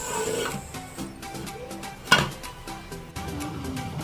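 Potatoes are stirred in a covered cooking pot, with a sharp metallic clank of the lid or spoon against the pot amid light scraping and clinking kitchen sounds.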